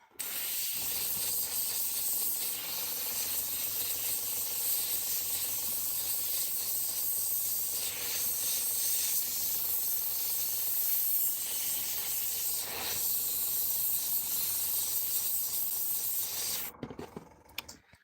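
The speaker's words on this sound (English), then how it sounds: "Oh, very slightly it's coming out. Because it's a very fine airbrush." A very fine airbrush sprays paint in a steady, continuous hiss for about seventeen seconds, with faint rubbing and clicking mechanism noise underneath, ending abruptly.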